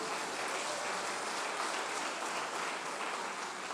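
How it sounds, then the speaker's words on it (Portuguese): A church congregation claps together in steady, dense applause for the Lord, loud and continuous across the whole moment with no voices standing out. "As palmas para o Senhor."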